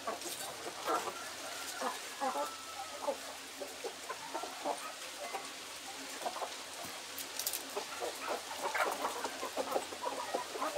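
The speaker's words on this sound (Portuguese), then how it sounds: "Um galo muito top." A rooster and free-range chickens cluck in quick, scattered bursts, fairly faint, over a low outdoor background.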